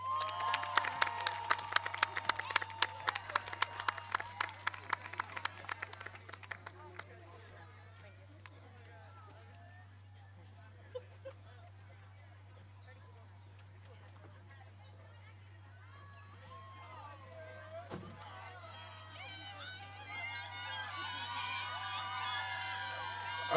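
A high school graduation crowd gives a burst of clapping and cheers that fades into a quieter murmur, then swells again with renewed cheering and applause toward the end, under a steady background hum.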